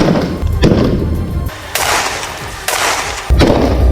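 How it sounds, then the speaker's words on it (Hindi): Bursts of rapid gunfire in an exchange between Israeli soldiers and Hamas fighters alternate with brief pauses, loud and sharp, volleys of shots repeating in quick succession. "दोनों तरफ से कई राउंड फायरिंग हुई।"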